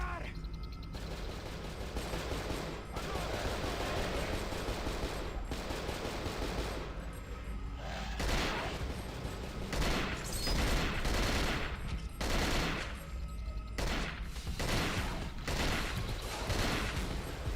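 Sustained gunfire in the shooter game Kiborgs, rapid automatic bursts and fusillades firing continuously at close range, loud and dense throughout.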